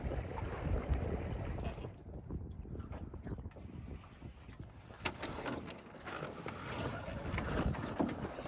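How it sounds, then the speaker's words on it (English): Wind in 6 to 8 knots rushes steadily over a microphone aboard a sailboat on sunny Lake Coeur d'Alene, a continuous low roar mixed with water wash against the hull, with no talk. "We got like 6 to 8 knots of wind."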